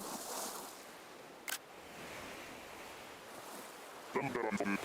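Waves break and wind blows along a beach in the Animal Crossing video game, a quiet, steady wash of surf with one brief tap and a short burst of game chimes near the end.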